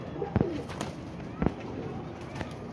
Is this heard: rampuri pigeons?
yes